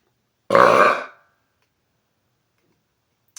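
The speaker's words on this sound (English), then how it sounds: "I screamed my burp out." A man lets out one loud, roaring burp lasting under a second, close and forceful, followed by silence and a faint tick at the very end.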